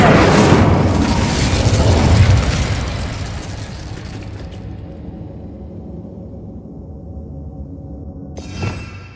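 A fiery Incendio spell erupts in Hogwarts Legacy with a loud roaring blast and crackle that slowly dies into a low rumble. A second short burst flares near the end.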